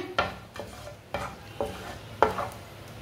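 Whole coriander seeds dry-roasting in a pan, with a spatula scraping and tapping the metal in four or five distinct strokes over a faint background sizzle.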